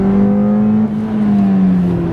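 Ford Fiesta ST hot hatch exhaust under acceleration on track, a loud steady droning note that dips briefly as if on a shift, then climbs again, heard alone and close.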